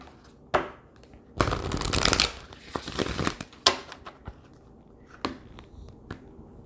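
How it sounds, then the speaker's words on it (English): Tarot cards being shuffled up close: a few sharp taps, then a long crisp riffling burst, followed by softer flicks and shuffles. "We're going to do one more shuffle."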